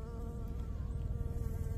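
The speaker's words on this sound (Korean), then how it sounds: "벌이란 벌은 다 우리 집으로 몰려온 것 같고요." Bees hum steadily around blooming crocus flowers in a spring garden, a close, continuous buzzing that wavers slightly as insects move, with no voices.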